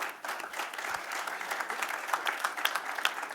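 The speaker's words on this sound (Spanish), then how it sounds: "agradecemos con un aplauso a los chicos" An audience at a talk on certifications and good agricultural practices applauds the presenters, building quickly into steady, lively clapping from many hands with a few sharper claps standing out.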